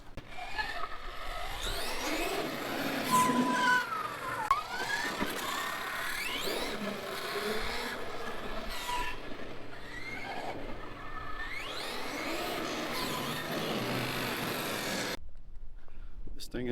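A Traxxas X-Maxx RC truck runs at half throttle, its electric motor whining and rising and falling in pitch as it accelerates and turns, close, with people talking over it.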